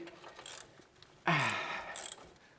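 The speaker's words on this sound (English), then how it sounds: "just grab your ratchet and tighten it down." Ratchet tightening a nut on the front hub of a Nissan truck, a close burst of fast metallic clicking after a few quieter handling sounds.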